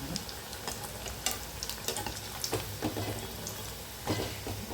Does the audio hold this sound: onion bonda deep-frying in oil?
yes